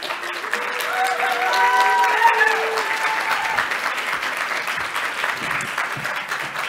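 A crowd at a real estate market expert debate applauds Elżbieta Liberda as she is introduced, with sustained even clapping, briefly swelling in the middle, and some faint tonal sounds early on.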